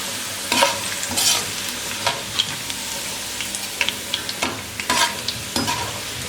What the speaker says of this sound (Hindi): ये जो प्याज हम बाहर निकाल रहे हैं